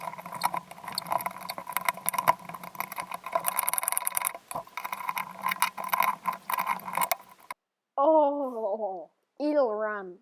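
A go-kart's small engine runs in the woods with a rough, uneven sputter and rattle up close for several seconds, then cuts out, followed by two short tonal wailing sounds.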